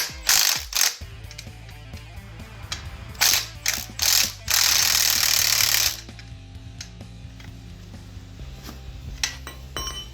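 A ratchet wrench clicks in quick bursts while a Harley Sportster motor is being removed, the rapid mechanical ratcheting loud and close, with a longer sustained clatter in the middle before it tapers off.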